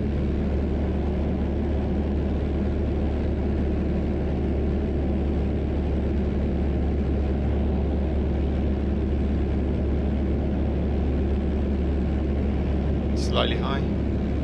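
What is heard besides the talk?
Piper PA28 Warrior II light aircraft engine in flight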